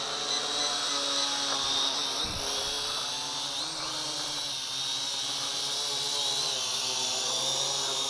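A Kaideng K70C Sky Warrior altitude-hold drone flies nearby, its motors giving a steady high-pitched whine with a strong buzzing drone that holds constant throughout.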